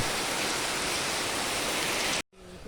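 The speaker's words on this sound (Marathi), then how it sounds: "खतरनाक भाई साहब आलाय भाई पाऊस" Heavy, steady monsoon rain in Nashik roars as a dense broadband hiss, then cuts off abruptly into quieter background near the end.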